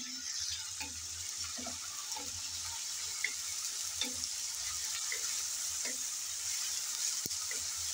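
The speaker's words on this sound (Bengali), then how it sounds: "আদা বাটা আর রসুন বাটা একসাথে নেড়ে চেড়ে ভালো করে ভেজে নেব।" Ginger and garlic paste frying in oil while being stirred, a soft, continuous sizzle up close with occasional scraping and tapping of a spoon in the pan.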